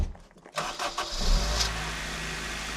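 A car engine cranks and catches, then settles into a steady, close idle after its engine bay has been pressure washed in a garage; no one speaks over it.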